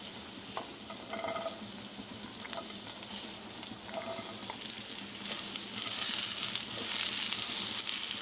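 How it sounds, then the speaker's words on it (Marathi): Okra frying in a little oil in a kadhai, a soft continuous sizzle with occasional light clinks and stirring scrapes, fairly quiet and steady throughout. "यामध्ये आपल्याला भेंडी आधी फ्राय करून घ्यायची आहे"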